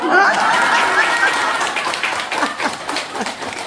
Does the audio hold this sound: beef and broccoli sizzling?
no